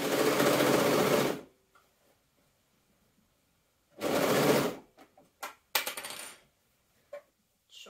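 A sewing machine stitches layers of stretch fabric for a dragon cosplay dress in two short, loud whirring bursts, separated by quiet pauses filled with small clicks and taps from handling.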